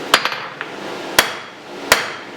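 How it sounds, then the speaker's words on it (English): A blacksmith's hammer strikes hot steel on a flat die while tapering a bar, sharp ringing blows arriving irregularly: a quick cluster of three, then two isolated hits, close and loud. "using the flat die, you do have to tilt your hammer to the taper"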